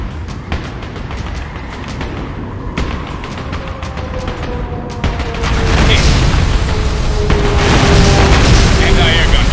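Bombs dropping and exploding in the combat flight game Ace Combat Assault Horizon, heavy booming blasts building into a loud continuous roar over jet engine noise, with voices talking through it.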